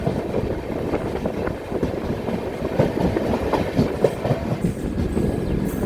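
Tambaram Express rolling along the rails, a steady low rumble with rhythmic clatter from the wheels and carriages, loud and continuous throughout with no talking.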